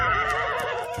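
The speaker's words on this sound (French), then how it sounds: "Les hommes vont capturer les chevaux sauvages." Wild horses neigh in an animated cartoon scene before a capture, a loud, sustained whinny filling the full second at close range.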